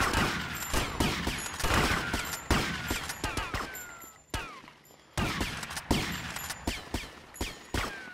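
Rapid bursts of gunfire in GTA Vice City as a character is shot, with dense repeated shots, a brief lull midway and then more sustained firing, loud and close.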